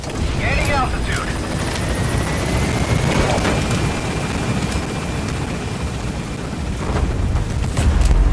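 Helicopter lifting off in Metal Gear Solid V: The Phantom Pain, a steady loud rotor roar and turbine whine throughout, with game radio chatter and voices over it.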